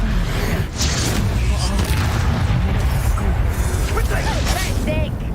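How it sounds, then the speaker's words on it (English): Repeated booming blasts from the Confringo blasting spell in Hogwarts Legacy, loud and continuous over several seconds, with crackling bursts and whistling effects layered on top. "Confringo!"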